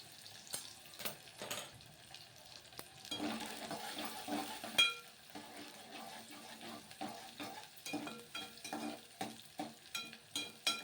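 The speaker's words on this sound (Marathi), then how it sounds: "कांदा आपल्याला छान लालसर होईपर्यंत तेलामध्ये परतून घ्यायचा आहे" Onions frying in oil while being stirred until reddish, for a Kolhapuri mutton dish, with soft sizzle and repeated scraping strokes of a spatula in a rhythmic pattern, fairly quiet and close.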